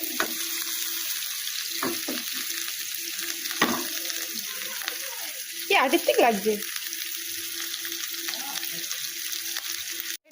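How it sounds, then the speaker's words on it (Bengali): Carrot, capsicum and other vegetables fry in a pan for bread pizza, a steady close sizzle with scraping and clattering as they are stirred; a voice speaks briefly over the cooking. "এটা এখন একটু ভাজা ভাজা হবে।"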